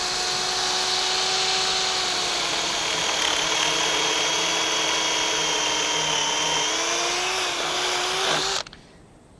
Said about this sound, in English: we just want to drill down about the length of our drill bit